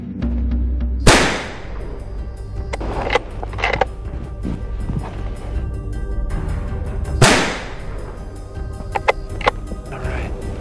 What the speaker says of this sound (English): Okay, I'm shooting, guys.